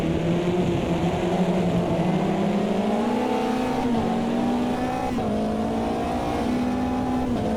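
Race car engines in a racing video game drone loudly and continuously, the pitch rising gradually as the cars accelerate, with faint tire squeal and no voices.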